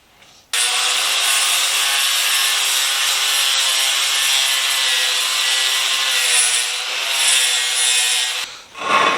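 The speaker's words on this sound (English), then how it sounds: "I went over it with that old flap disc and got it down to the original machining marks" A worn 120-grit flap disc grinds steadily across the steel of a Reed No. 32 vise, giving a loud, continuous abrasive whir that runs unbroken for about eight seconds before cutting off.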